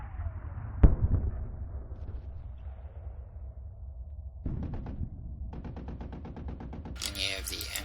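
MP41 submachine gun firing in an Arma 3 IFA3 mod game, a lone shot followed by rapid automatic bursts of closely spaced cracks, with someone speaking over part of it.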